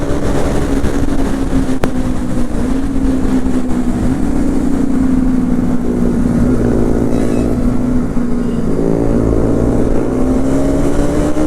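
A Bajaj Pulsar NS200 BS7 motorcycle engine drones steadily while riding, a loud continuous hum with slowly shifting pitch as the revs rise and ease, no voices over it.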